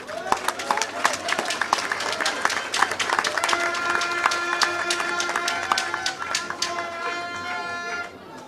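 An audience at a political party rally claps and cheers in a dense, steady round of applause that runs throughout, with voices and a sustained tone mixed in, before it thins out near the end.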